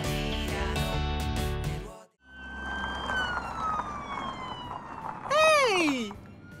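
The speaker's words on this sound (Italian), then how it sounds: "Già, è un'auto della polizia!" A police car siren wails loudly and nearby, first as a long rising and falling tone and then as a fast yelping sweep. It starts after a short burst of other sound and a brief gap.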